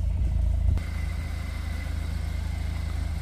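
A 2022 VW Tiguan R facelift with a 2.0 TSI engine and Akrapovic sport exhaust idles with a deep, steady rumble close by. It is louder for the first moment, then settles into an even idle.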